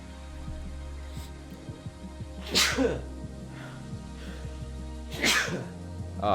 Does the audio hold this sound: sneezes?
yes